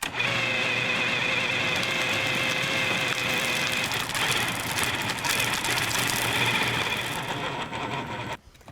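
A food processor whirs continuously, blending raw meat with ice for kibbeh in a Lebanese kitchen, a loud steady motor whine with gritty churning that cuts off abruptly at the end.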